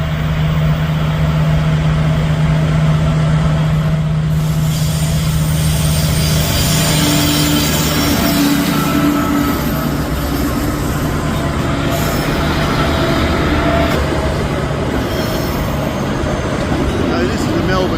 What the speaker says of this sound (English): So this is the Melbourne-Perth train.